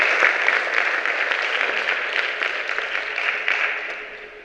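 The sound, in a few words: audience applause at a conference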